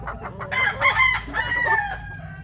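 A Boston Roundhead broodstag rooster crows close and loud, one drawn-out cock-a-doodle-doo with clucking fowl and faint farm background around it.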